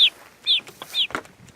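Young chickens being moved into a chicken tractor give three sharp high chirps in a steady rhythm, with soft clucks and light rustling between them. No one speaks.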